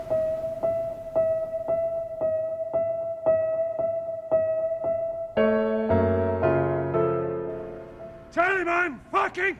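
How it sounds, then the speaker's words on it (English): Film score from The Limey: a steady repeating plucked or struck note pattern pulses evenly, then a denser chord passage enters, followed by a brief burst of sung or voiced tones at the end. "And what you're hearing now is the Limey."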